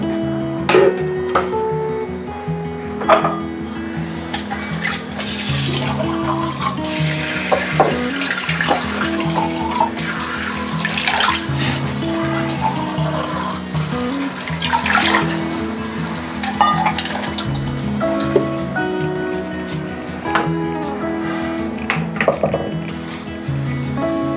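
A new stone mortar grinder is washed under a running tap, with steady water noise throughout and frequent clinks and scrapes of stone handled in the sink.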